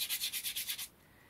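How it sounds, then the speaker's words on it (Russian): A wooden pestle handle is sanded by hand, giving about seven quick rhythmic rasping strokes up close, then stopping into near silence. "этап шлифовки. Вот такими движениями."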